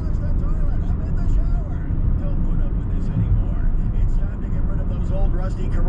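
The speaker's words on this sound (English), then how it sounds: "you can definitely hear the wind kind of going around the vehicle" Steady wind and road roar fill the cabin of a 2020 Kia Soul S at speed, a constant broadband rush with no breaks.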